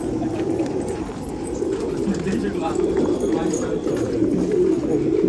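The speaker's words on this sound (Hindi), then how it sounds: "टोटल दोस्तों यहाँ पे 500-600 कबूतर है" A large loft of several hundred pigeons coos in a continuous low murmuring chorus, close and fairly loud, with people talking over it.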